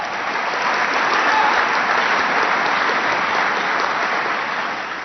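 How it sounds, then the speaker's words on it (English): A large audience at a community college event, where President Obama signed health care and education reform, applauds in a dense, sustained wash of clapping that holds steady for several seconds before easing slightly at the end. "You can applaud for that."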